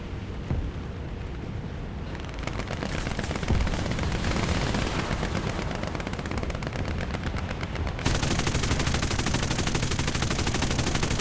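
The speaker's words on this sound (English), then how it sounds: "He's got rockets! No, they're just big old explosive rounds." Explosive rounds fired at an aircraft in a video game, dense continuous rapid gunfire and booming blasts that build in intensity, loud and unbroken throughout with a sharper surge late on.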